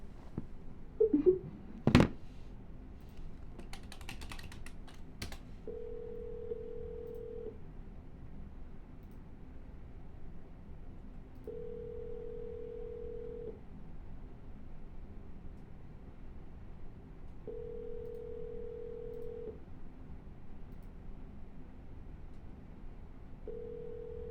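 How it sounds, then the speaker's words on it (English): Telephone call dialed and left unanswered: a few sharp dialing clicks at the start, then a faint ringback tone repeating four times at even intervals over quiet line hiss, with no pickup. "No answer, we're gonna double dial."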